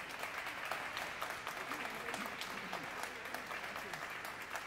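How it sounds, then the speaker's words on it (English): Steady applause from an audience greeting musical guests in an atrium concert, dense and even clapping filling the space throughout, fairly distant and moderate in level. "please give them a warm round of applause"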